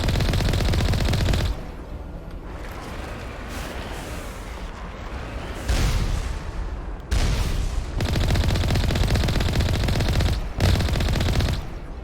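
Rapid automatic gunfire aimed at a turret in the video game Mass Effect, loud sustained bursts broken by short pauses, with no talking over it.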